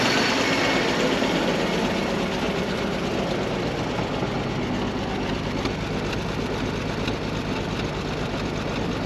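A rescued Holden Commodore engine idles roughly on a missing cylinder, a loud, dense, continuous rumble close up with an uneven lumpy beat and occasional fluffing as the dead cylinder tries to fire.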